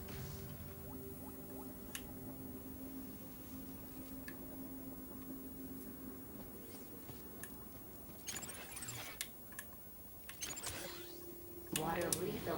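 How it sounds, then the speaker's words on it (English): Water refilling in the video game Beyond a Steel Sky, soft liquid squishing and drips with mechanical creaks over a low steady hum, faint at first with busier sloshing and clicks near the end. "Water refill complete."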